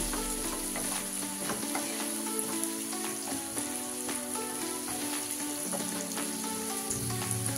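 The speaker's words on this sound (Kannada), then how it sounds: "ಇವಾಗ ಒಂದು ಟೊಮೊಟೊನ ಸಣ್ಣ ಕಟ್ ಮಾಡ್ಕೊಂಡು ತೊಗೊಂಡಿದ್ದೀನಿ, ಅದನ್ನು ಕೂಡ ಹಾಕ್ಕೊತೀನಿ. ಸ್ವಲ್ಪ ಫ್ರೈ ಮಾಡೋಣ ಅದನ್ನ." Chopped tomato and capsicum frying in a pan for capsicum rice, a steady close sizzle with occasional light stirring clicks throughout, no voices.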